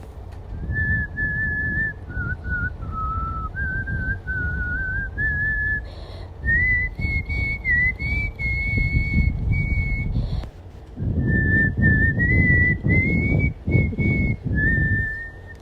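A person whistles a flowing, lyrical opera melody from Mimi in clear sustained phrases over a steady low background rumble, pausing briefly partway through.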